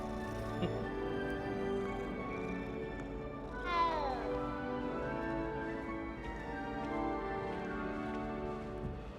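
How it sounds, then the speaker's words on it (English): A cat in Hogwarts Legacy lets out one brief meow partway through, set against a steady bed of game ambience and music that carries on around it. "Little kitty, kitty, kitty."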